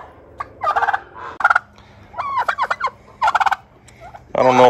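A strutting turkey gobbles in a pasture, several loud, close rattling bursts of gobbling separated by short pauses, with a low steady hum beneath.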